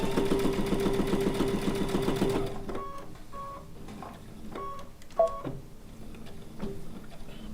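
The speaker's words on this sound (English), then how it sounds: "now we're just going to stitch right on those 2 darts in" A sewing machine stitches darts on a fabric bowl cozy with a fast, even mechanical whirr for a couple of seconds, then stops, followed by scattered clicks and light handling knocks nearby and no speech.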